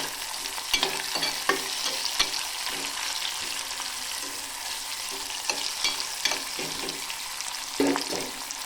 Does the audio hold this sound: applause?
no